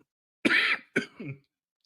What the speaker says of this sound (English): Sorry for coughing, guys